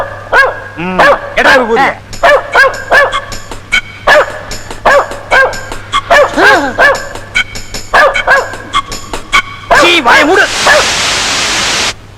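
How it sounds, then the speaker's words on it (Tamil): A dog barks repeatedly and loudly at close range in quick bursts, mixed with yips and whines, ending in a noisy rustle. "அதுதான் நாய் குலைக்குது"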